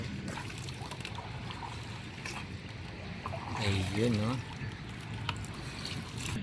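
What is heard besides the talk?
boatman's boat moving on river in Tondo, Manila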